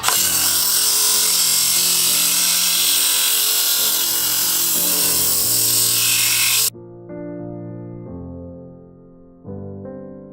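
Sandpaper of 80 grit rubs the interior of a spinning mulberry wood bowl on a lathe, a loud steady abrasive whir that cuts off, leaving the softer hum of the lathe motor.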